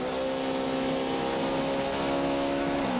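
A NASCAR race car engine idling with no load at a 2009 Pennsylvania 500 race, loud and close, a steady droning rumble whose pitch dips slightly near the end.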